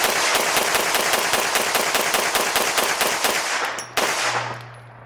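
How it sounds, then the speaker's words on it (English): A Springfield Armory Kuna PDW fires a rapid string of loud, evenly spaced shots close by, about a dozen in quick succession, ending abruptly with a metallic clack and a fading ring. "this is a sweet shooting firearm with a lot of options"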